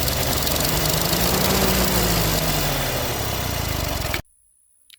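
A classic Ferguson TO20 tractor that sat unused for years, its engine running loud and close with a rough, steady knocking rumble before it cuts off abruptly into near silence.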